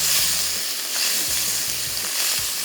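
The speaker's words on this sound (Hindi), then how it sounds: "मशरूम को सिंपल फ्राई किया।" Mushrooms frying in a hot pan with a loud, continuous close sizzle and occasional stirring scrapes, no speech.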